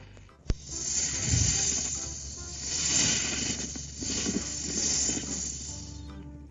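A snake sound effect from an Alexa Snakes and Ladders game, a long breathy hiss with a low rumbling growl, heard alone at moderate level after a sharp click at the start.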